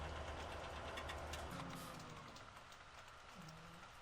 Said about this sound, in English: And yeah, down comes the rain.